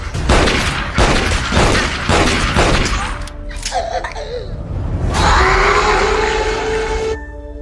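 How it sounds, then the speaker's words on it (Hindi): Rapid gunfire bursts ring out early, then give way to groans, screams and booming dramatic effects in a horror series scene, loud and dense throughout. "तुम्हारी पास गन है बेवकूफ़, गोली मारो से।"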